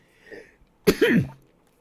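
One sharp, close cough from a news presenter, a single abrupt burst with a brief voiced tail, after a quiet breath.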